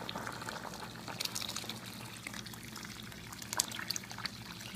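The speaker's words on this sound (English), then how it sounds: "I have a pitcher of water, but I will probably only add about half of it" Water poured from a pitcher into a pot of cooking brown beans, a faint continuous splash and trickle with small bursts of bubbling, close by and quiet.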